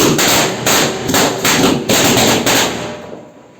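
Firecrackers set off for a Vishu celebration: a close, loud run of about six sharp bursts in quick, uneven succession, with a fading tail at the end and no voices.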